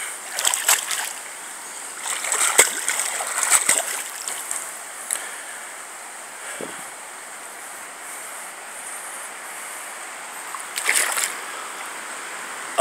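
Someone wades about a foot deep through floodwater from a risen river, with splashing and sloshing steps coming in irregular bursts over a steady wash of water.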